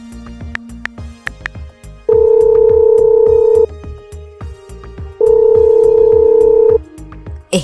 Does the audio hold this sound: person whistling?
no